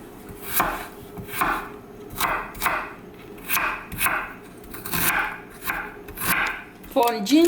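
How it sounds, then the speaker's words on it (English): Ginger and garlic are sliced into small pieces with a knife on a board for chicken curry, a steady series of close, rhythmic chopping knocks roughly every half second. "For ginger and garlic, you can slice into small pieces."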